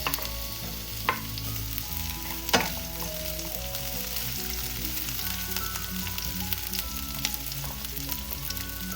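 Onions crackle and sizzle in a hot pan, close up, while a spatula stirs and scrapes them, with two sharp knocks early on over the continuous frying.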